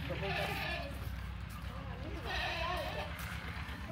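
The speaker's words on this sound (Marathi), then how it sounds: "मला आता बघा शेळ्या दाखवतो बघा" Goats bleating on a farm with chickens about, several wavering calls in two bursts near the start and again midway, heard over steady background noise and talk.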